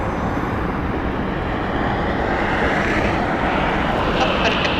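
Boeing 737-600 jet airliner on a Janet flight, heard as a steady broadband engine roar at an airport, holding constant and fairly loud throughout, with a faint rise in high whine toward the end.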